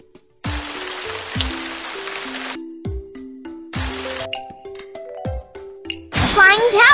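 Sparkling sprinkle effect from a Shimmer and Shine genie palace dress-up game: bright rising tinkling chimes over a burst of shimmering spray, repeated in several quick waves with a cartoon voice speaking throughout.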